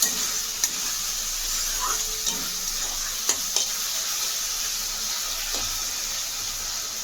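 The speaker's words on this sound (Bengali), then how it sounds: "ব্যাস এই মশলা, এটাকে একটুখানি কষিয়ে নিতে হবে।" Spice paste of ground coriander, cumin and chilli soaked in water frying in a pan for prawn dopiyaza, a steady broadband sizzle throughout with a few sharp stirring scrapes and clinks, fairly close and alone.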